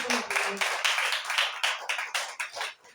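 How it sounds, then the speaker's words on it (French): A congregation claps at a church worship service, a small group of hands beating loud, uneven claps close by that fade out at the end. "Applaudissez pour le Seigneur"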